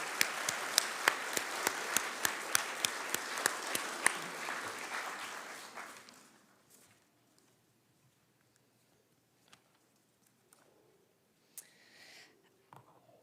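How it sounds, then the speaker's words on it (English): A graduation ceremony crowd claps loudly for several seconds, then the applause fades away to near silence with a few scattered stray sounds. "So everybody, round of applause for our Golden Apple winners"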